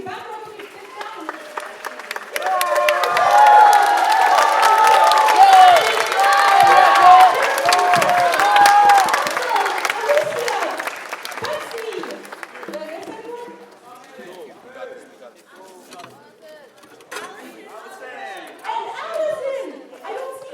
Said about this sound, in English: So I'd like to give a big round of applause.